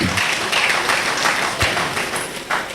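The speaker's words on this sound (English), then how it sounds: "Can we clap for our Honorable Minister for doing a great job?" An audience applauds at a housing awards ceremony, a steady wash of many hands clapping at close to moderate distance, continuous through the short stretch with a few sharper individual claps.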